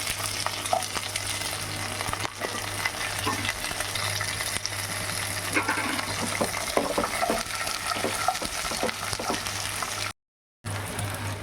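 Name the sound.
frying potatoes, red lentils and white amaranth stems in oil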